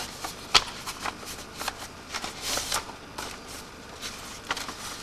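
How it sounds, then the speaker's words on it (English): A paper folding machine presses a pre-fold into the middle of a sheet for a book, giving a quick run of light rustling, flicking paper sounds with a sharper snap near the start, close by and with no talk. "The computer has asked the machine to make a pre-fold in the middle of the paper to make it easier to fold the book."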